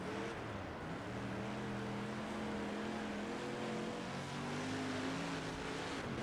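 Dirt-track race cars snarl together in a World of Outlaws racing game, a steady dense engine drone with shifting pitch as several cars run close in a pack, loud and continuous throughout.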